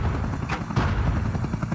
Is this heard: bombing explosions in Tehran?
no